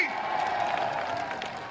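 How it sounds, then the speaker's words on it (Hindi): Crowd clapping and cheering at a Rajasthan assembly election rally in Ramgarh, Alwar, a steady burst of applause from a large outdoor audience lasting under two seconds. "ठोको ताली"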